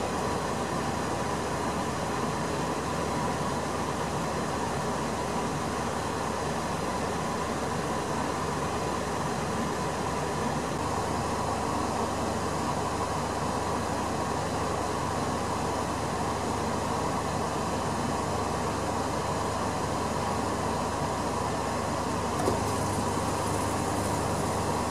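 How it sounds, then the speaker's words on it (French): A Cecotec Clima 9050 portable air conditioner in cool mode at minimum fan speed runs alone with a steady, even broadband whoosh that holds constant throughout, with a slight shift in tone near the end. "Donc là, c'est uniquement le bruit de ventilateur."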